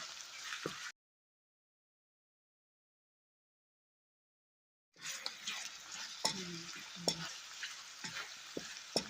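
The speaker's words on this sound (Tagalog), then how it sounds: "Na-prito yung hotdog." Hotdogs sizzle steadily in a hot pan, with occasional scraping stirs; a few seconds of silence break the crackling partway through.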